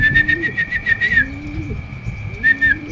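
Racing pigeons return to the loft after a 261 km derby race lap from Naga, Camarines Sur, with close, loud whistling and fluttering wing bursts over low cooing and rustling.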